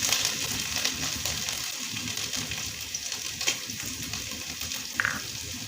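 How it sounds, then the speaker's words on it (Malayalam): Chopped carrot sizzles in hot oil in a pan, a steady close frying hiss throughout with a brief brighter pop near the end. "ചൂടായ എണ്ണയിലേക്ക് ചെറുതാക്കി അരിഞ്ഞു വെച്ച ക്യാരറ്റ് ചേർത്ത് കൊടുക്കുക."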